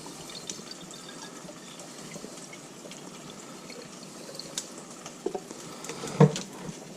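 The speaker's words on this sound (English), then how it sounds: "So we're going to take the orange juice, we're going to pour it in here." Orange juice is poured into a sauce bottle in a faint, quiet trickle scattered with small clicks and splashes, ending in a louder knock of the bottle near the end.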